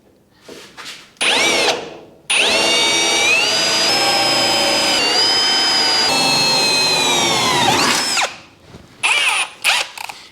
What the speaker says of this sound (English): we're just going to go through and drill all them out